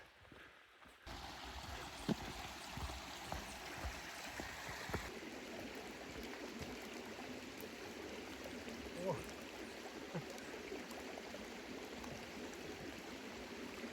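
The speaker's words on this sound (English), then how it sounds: "Sounds like we got a creek." Steady broadband rush of flowing water, like a creek nearby, continuous throughout with a few faint thumps and rustles.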